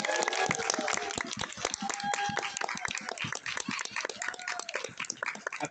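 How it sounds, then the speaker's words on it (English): Convention panel audience at a pony fan convention clapping and cheering as a panelist is introduced, dense crowd applause with scattered whoops, fairly close and continuous. "Give a round of applause."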